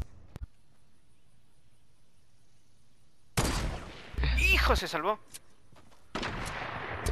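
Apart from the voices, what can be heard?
gunfire in the video game Fortnite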